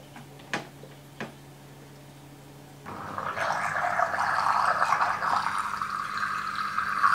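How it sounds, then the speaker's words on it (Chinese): Prepared salt water poured into a seawater aquarium holding live rock: a steady, watery rush begins a few seconds in and keeps going, after a couple of light clicks in the quiet start. "接下来倒入我提前调好的盐水"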